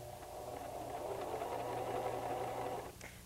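A White 1735 sewing machine runs a wide zigzag stitch with a fast, even mechanical whirr that holds steady for about three seconds, then stops abruptly with a small clunk.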